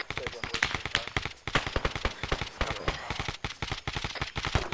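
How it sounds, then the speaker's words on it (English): Rapid bursts of gunfire in a military shooter, ArmA 3, crackling in quick repeated volleys throughout, loud and dense, with voices talking over the shots. "Ooh, shots east."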